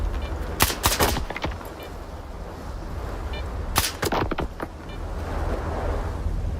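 Gunfire in the video game STALKER 2: loud, sharp bursts of automatic shots, a rapid cluster near the start and another around the middle, over a low rumbling background.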